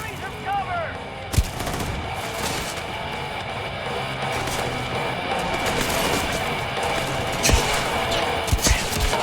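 Turret gunfire in a Starfield space station, a dense run of sharp shots and bursts layered over a continuous noisy battle din, with a few louder close cracks standing out.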